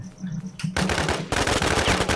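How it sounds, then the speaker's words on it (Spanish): Rapid automatic gunfire aimed at the player in the video game Infestation: The New Z, close and loud, firing in fast repeated bursts after a short quieter lead-in. "Y me dispara."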